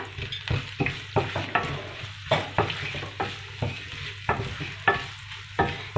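Cashew nuts fry in ghee for South Indian khara pongal, a steady soft sizzle broken by regular clinks and scrapes of a spoon stirring the pan.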